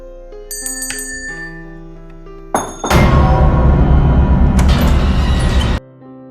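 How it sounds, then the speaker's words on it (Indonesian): A bright metallic bell rings in a few quick bursts, then a louder, sustained jangling clang rings on for several seconds before cutting off abruptly. "tiba-tiba terganggu oleh bunyi lonceng milik ibunya"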